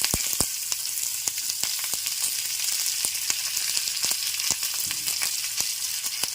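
Coriander seeds, cumin and onions sizzle steadily as they fry in a pan for a chutney with spinach, a dense hissing crackle with scattered sharp pops throughout, close and fairly loud with no talking.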